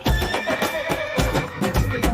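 Hindi nursery rhyme for children with a loud horse whinny over steady clip-clop hooves, set to bouncy music.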